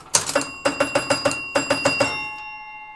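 A mechanical bell rings in a quick series of bright metallic strikes, about a dozen sharp rings in uneven bursts with a short pause in the middle, then a sustained tone that fades out. The bells sound close and loud, with no voices.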